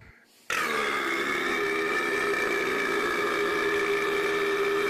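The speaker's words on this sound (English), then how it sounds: "is constantly burping and gurgling to relieve that built up gas pressure in its body" Boomer from the Left 4 Dead 2 video game, a bloated infected, lets out a long, loud, steady guttural burping groan with throaty gurgling, starting abruptly after a brief quiet moment and sustained without a break.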